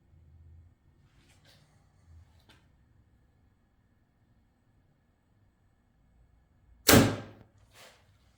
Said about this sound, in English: we're going to shoot this bow through paper